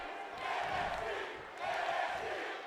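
A large wrestling crowd in a Sydney arena in WWE 2K18, a steady roar of massed voices that swells, dips and swells again, with faint commentary talk underneath.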